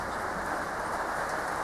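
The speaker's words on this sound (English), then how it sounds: "It's raining." Steady rain drums on a workshop shed with its roller door shut, a dense, even hiss of droplets that stays constant throughout, with no voices.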